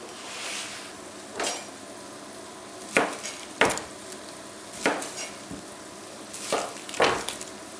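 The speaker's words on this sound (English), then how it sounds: "So I'm just going to put the lamb in the pan now to start browning it off." Lamb pieces browning in a hot pan for a lamb hotpot: a steady sizzle broken by several sharp clatters and stirring knocks, close and fairly loud, with no talking.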